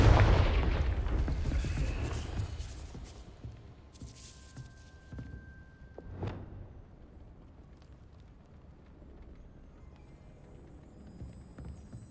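The Confringo blasting spell in Hogwarts Legacy goes off as a loud explosive burst that rumbles and then fades, followed by a few sharper bangs and thuds and a faint lingering tail.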